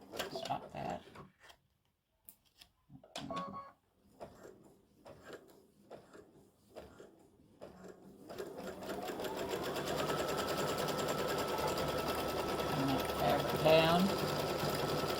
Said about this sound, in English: So it's going to do the satin stitch around the edge of the hat now.